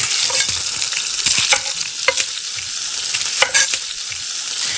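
Chopped onion sizzling in hot oil in a paella pan, a steady close crackle with sharp spatula scrapes and stirring knocks scattered throughout.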